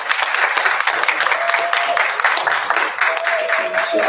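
Audience at a research symposium applauds in a steady, loud burst of clapping lasting several seconds, with some faint tonal sound and voices mixed in.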